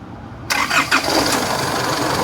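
A 2005 Isuzu D-Max Hi-Lander 3.0 diesel pickup engine starts close by: a brief cranking burst, then a steady, loud diesel idle clatter with no talk.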